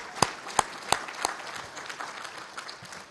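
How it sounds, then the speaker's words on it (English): Audience at a 2016 AFA Hall of Fame induction ceremony applauds in a hall, a few sharp distinct claps at first followed by a soft, fairly distant patter of clapping. "If you'd give those folks a round of applause for their generous help as well."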